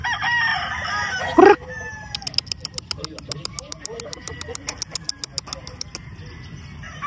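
A Minor Blues gamefowl rooster crows once loudly and close, followed by a rapid series of sharp flapping wing beats, with faint background chatter and clucking.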